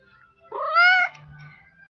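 A single clear cat meow, close and fairly loud, rising and falling over about half a second in an otherwise quiet setting.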